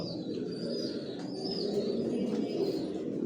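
Racer pigeons coo softly in a loft, a steady murmur of overlapping low calls with occasional faint chirps, continuous and fairly close throughout.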